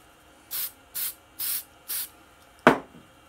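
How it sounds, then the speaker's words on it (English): Four short hissing bursts from a spray can, evenly spaced, followed by a single sharper spray or puff near the end. "I'm gonna spray this one."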